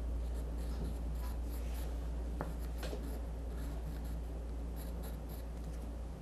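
A marker or chalk scratches lines onto fabric while a carnival shirt is being customised, a steady dry rubbing close to the mic over a constant low hum.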